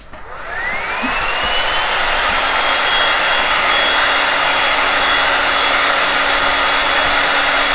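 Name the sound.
hair dryer blowing to dry paint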